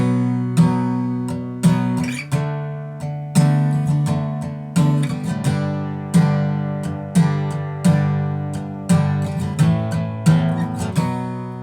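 Guitar strumming of a song's pattern played slower, each chord struck separately with a short ringing decay before the next, about one strum per second, close and clear with no talking.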